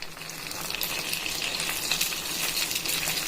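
Store-bought readymade puris for pani puri frying in hot oil, a steady, close, hissing sizzle that carries on evenly with no talking.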